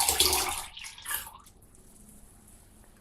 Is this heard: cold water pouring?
yes